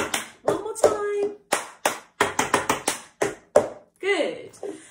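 A children's music lesson in which one person performs a clapping rhythm of hand claps and table taps. Short, sharp hits come in a patterned sequence, with sung or spoken rhythm words over them.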